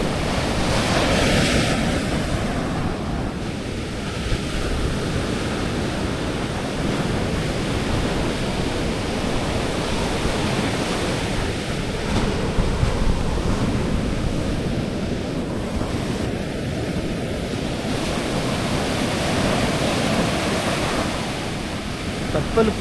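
Sea waves wash onto the shore in a steady, enveloping roar of surf mixed with wind buffeting the microphone, continuous and loud throughout, with slow swells in intensity.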